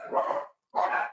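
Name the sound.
dog barking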